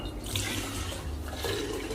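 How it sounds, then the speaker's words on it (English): Liquid pours steadily through a mesh strainer lined with cheesecloth for homemade milk, making a continuous close watery splashing and trickling with no talk. "I'm gonna pour through the mesh strainer and the cheesecloth"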